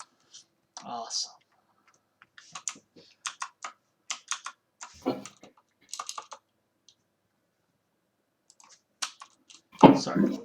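A computer keyboard is typed on in short, uneven bursts of crisp clicks with quiet pauses between them, close by in a quiet room, ending in a louder rustle.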